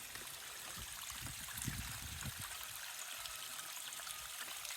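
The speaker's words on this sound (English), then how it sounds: "Underwater springs." Water trickles and gurgles from an underground spring welling up in flood-soaked Arkansas ground, a faint, steady flow with soft bubbling near the microphone.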